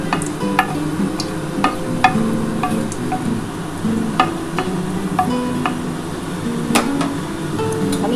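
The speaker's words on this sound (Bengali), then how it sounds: "এবার আমি কিন্তু চাল কুমড়োটা দিয়ে দেবো" Ash gourd frying in a pan with nigella seeds and a dried red chili, steady close sizzling with repeated sharp knocks and scrapes of a spatula stirring against the pan.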